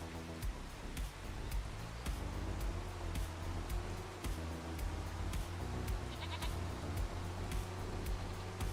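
Goats bleating in a pasture in Farming Simulator 25, several overlapping calls repeating over steady farm ambience, fairly close and continuous with no talk.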